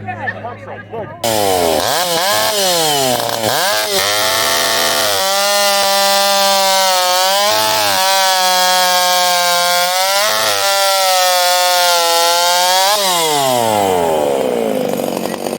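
Chainsaws cutting wood at a competition: a loud, close saw rises and falls in pitch as it revs and bites through the log again and again, with an announcer's voice partly heard over it.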